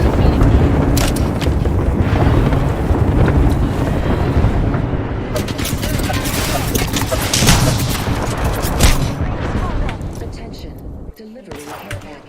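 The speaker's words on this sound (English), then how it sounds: "Signaling an airstrike." Airstrike in a first-person shooter video game: a dense barrage of booming explosions and rattling gunfire, loud and continuous, rolling on for several seconds before trailing off.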